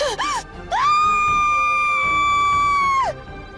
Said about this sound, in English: The scream echoes through the night.